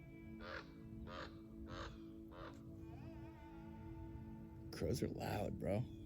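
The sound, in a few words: crows cawing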